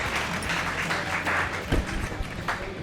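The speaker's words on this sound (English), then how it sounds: "Give Brad a round of applause, y'all." An audience applauds a comedian, steady clapping of a modest crowd filling the short stretch at moderate volume.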